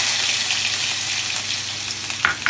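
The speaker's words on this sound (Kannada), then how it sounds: "ಈಗ ಶುಂಠಿ ಬೆಳ್ಳುಳ್ಳಿ ಪೇಸ್ಟ್ ಹಾಕೊಬಿಡೋಣ." Ginger garlic paste hits hot oil already holding mustard seeds, in a yam fry, giving a loud, continuous sizzle and crackle with a few sharper pops at the end.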